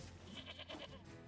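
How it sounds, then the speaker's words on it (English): A sheep bleats once in NieR Replicant, a short, faint wavering cry with game ambience beneath it. "Alright, sheep."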